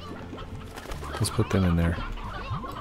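Rock chickens in the video game Slime Rancher, a few short clucks and a longer squawking call, with someone speaking over the game sounds.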